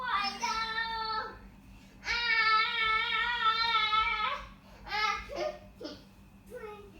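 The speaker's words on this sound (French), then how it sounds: "On voit des enfants qui jouent. Et c'est mon enfant qui joue derrière." A young child plays and babbles in the background, bursts of high, sing-song vocalising and giggly sounds rising and falling over a steady low hum, fairly close and continuous throughout.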